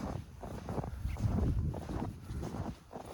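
Strong wind blowing in snowy winter weather on a farm, gusty rushing buffeting that swells and eases across the clip, fairly faint and alone.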